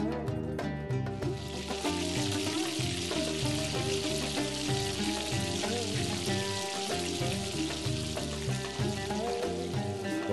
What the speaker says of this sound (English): And then you deep fry them.